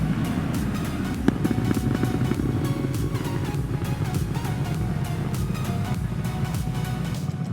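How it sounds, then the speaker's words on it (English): SpaceX Falcon first stage rocket engine landing burn, a loud steady roar of broadband rumble with crackling texture that holds evenly throughout with no voices. "Here is that start of our first stage landing burn."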